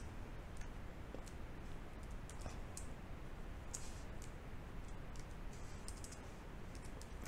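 Soft, quick clicks of typing on a computer keyboard during software work, faint and close, as scattered light keystrokes over a steady hiss of background noise.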